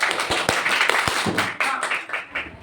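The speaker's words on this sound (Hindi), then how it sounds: "तो ये चारों बच्चियां बहुत ज्यादा मेहनत करती थी, इसलिए जोरदार ताली" Children clapping for classmates at a school gathering, a loose scatter of separate claps rather than full applause, sharp hand strikes spread unevenly through a brief stretch with a busy background.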